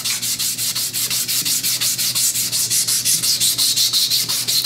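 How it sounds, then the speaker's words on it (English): A rusty engine shaft on a 1979 Toro 826 snowblower with an 8 hp Briggs & Stratton engine being polished, producing rapid, regular rasping strokes, loud and close, with a steady low hum underneath. "So you gotta polish your shaft."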